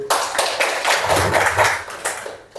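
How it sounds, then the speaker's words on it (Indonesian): An audience at an innovation presentation gives a short burst of hand clapping. Many hands clap together, close and fairly loud, for a couple of seconds and then fade. "Tepuk tangan dulu."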